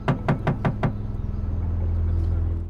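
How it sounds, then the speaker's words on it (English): Five quick, loud knocks land on an apartment door in close succession, then give way to a low, steady hum. "he rushes to her apartment and knocks several times"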